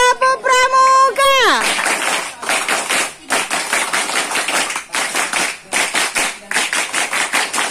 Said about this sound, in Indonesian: Tiga kali tepuk pramuka.